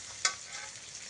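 Onion, garlic and chili frying in oil for a water lily and coconut dish, with one sharp stirring scrape near the start over a steady soft sizzle.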